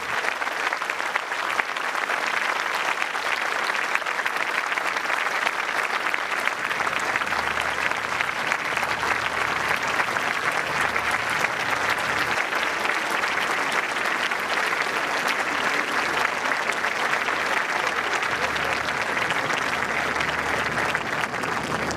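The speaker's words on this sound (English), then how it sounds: "arriving to a round of applause from the audience" Audience on a lawn applauding as outgoing Singapore Prime Minister Lee Hsien Loong arrives at a swearing-in ceremony, a sustained, even round of clapping from a large crowd lasting throughout.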